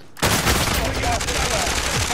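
Gunfire in a multiplayer shooter video game, a sudden loud burst of rapid automatic shots that starts abruptly and continues as a dense rattle, with faint talk underneath.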